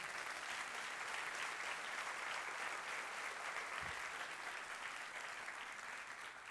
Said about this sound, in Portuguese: Vamos aplaudir, sim.